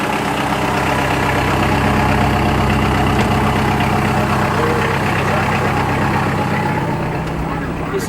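Kubota 5740 tractor engine idling steadily up close, a continuous low rumbling drone that holds level throughout with no breaks.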